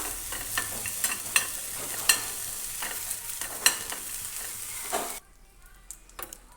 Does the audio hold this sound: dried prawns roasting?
yes